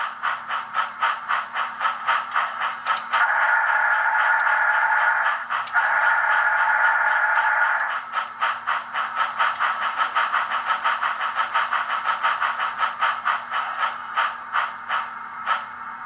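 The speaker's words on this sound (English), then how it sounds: "flanges are turning on those little pads in there, and you're going to clean those wheels really nicely" Model N&W J Class locomotive running on a Bachmann rolling road, its wheel flanges turning on cleaning pads: a steady close mechanical whir with rapid rhythmic ticking and a low hum, briefly rising to a smoother tone midway.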